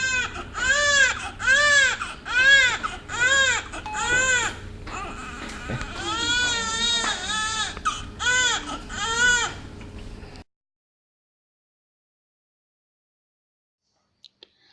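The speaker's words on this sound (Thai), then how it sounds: "จนกว่าทารกจะร้องและหายใจเองได้ดี" A newborn baby cries right after birth with loud, repeated wailing bursts that rise and fall in pitch over a low steady hum, then stops abruptly into near silence broken only by a couple of faint clicks.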